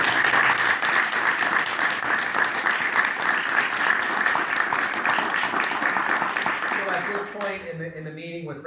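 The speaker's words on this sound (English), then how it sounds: "One more round of applause for our cafeteria and our retiring staff" A room at a school board meeting applauds retiring cafeteria staff, a long steady round of clapping that fills most of the moment, then breaks off as a voice starts talking.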